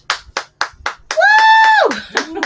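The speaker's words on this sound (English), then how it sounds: "Let's clap." Four crisp, evenly spaced claps ring out close at a ladies' night boxing-related event, then a long high whoop from a voice, followed by a couple more claps.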